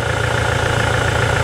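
A 2017 Toyota SW4 diesel engine idling in a workshop, a steady, loud low rumble with a continuous even knock running throughout, no voices over it.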